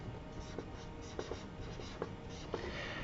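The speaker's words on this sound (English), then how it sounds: "So I'm going to write 2-methyl." Pen or marker writing on a board while a chemical name is set down, quick scratchy strokes and taps in short bursts, close and quiet with no talking.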